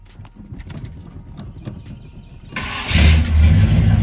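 An old carbureted car engine cranks and catches, a loud starter churn suddenly swelling into a rough, steady idle close by, with no talking.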